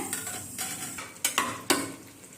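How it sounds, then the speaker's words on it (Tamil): Raw papaya pieces are stirred in a cooking pan, a few quick scraping strokes and clinks of a utensil over a faint sizzle. "இப்போ பப்பாளி காய் போட்டு லேசாக கிளறி விட்டுக்கலாம்"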